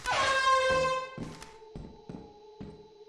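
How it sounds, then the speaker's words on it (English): A loud, blaring air horn blast in a video game, with strong harmonics, sounds for about a second, followed by several short, sharp thunks at regular intervals. "Air horn."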